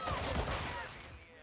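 Rapid crackling gunfire from a video game, popping like fireworks in a dense, continuous burst that fills the moment.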